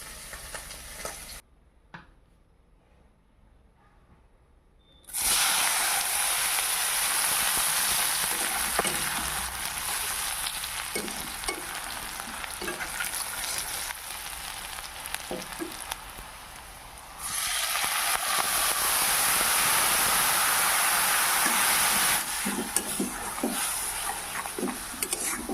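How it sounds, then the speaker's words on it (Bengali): Spices frying in a pan after fish has been fried, a loud, steady hiss of sizzling oil that starts abruptly after a few quiet seconds and continues close up with faint stirring scrapes, surging louder again partway through. "আমি এখানে মশলাটা দিয়ে দিয়েছি, এখন ভালো করে মশলাটাকে কষিয়ে নেব।"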